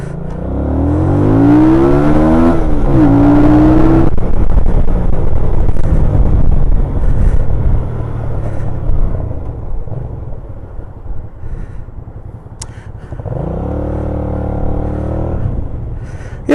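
A motorcycle engine on a ride out along a road toward East Tilbury on a chilly day, a loud steady drone with rising revs and wind buffeting the microphone, easing to a quieter idle before revving up again near the end.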